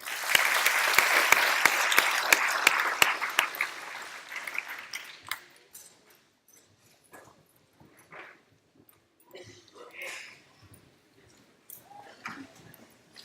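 Graduation audience for an eighth grade class bursts into loud, dense applause that lasts about four seconds, then dies away into scattered faint sounds and murmurs.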